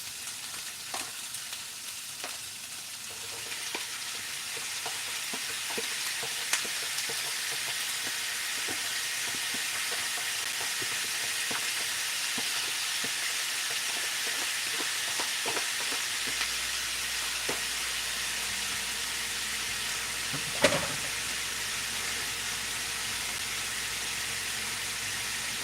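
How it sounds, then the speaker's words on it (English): Shrimp, peppers and onions saute in a pan, a dense, steady sizzling hiss that carries on without a break and stays loud and close, with a few faint utensil ticks scattered through it. "Y'all can hear it sauteing."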